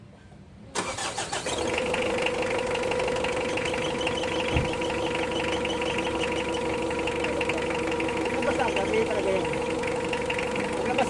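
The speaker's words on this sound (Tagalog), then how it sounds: "Pa-start ko na itong makina." Mitsubishi Adventure engine cranking and catching at once, then settling into a steady, loud idle with a faint whine, close-up in a workshop; the car had an overheating problem at 60 kph.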